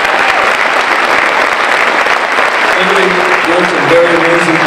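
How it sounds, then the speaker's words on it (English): A crowd applauds loudly and steadily, a dense wash of clapping that continues throughout, with faint voices emerging near the end. "let's hear a round of applause for Pedro Martinez and SAISD"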